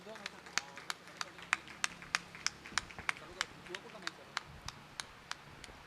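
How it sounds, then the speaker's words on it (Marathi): Steady sharp claps ring out in a quick rhythm of welcome for arriving dignitaries at the inauguration of a pediatric ICU department, fairly close and moderately loud over a murmuring crowd and background voices. "आपण सर्वांनी जोरदार टाळ्यांनी त्यांचे स्वागत करूया"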